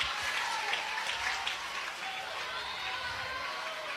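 A large crowd at a college softball game between Oklahoma State and Oklahoma cheers and applauds continuously in the stadium, a dense, steady roar of clapping heard at a distance without a break.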